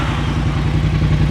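A Triumph Bobber motorcycle engine idles close by, a loud, steady, throbbing rumble with no talk over it.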